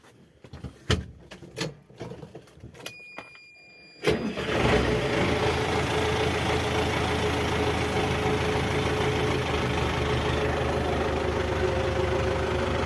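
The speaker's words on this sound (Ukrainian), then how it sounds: "Моторчик шепче шикарно." A few clicks and knocks, then the engine of a new MTZ 82.1 tractor cranks and catches, settling into a steady, even idle that rumbles on without talk.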